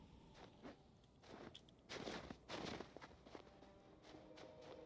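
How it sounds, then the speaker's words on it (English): Footsteps crunching through snow in the video game Hytale, a few irregular crisp crunches of varying loudness, fairly close and quiet, with no talk over them. "I love the crunch of the snow."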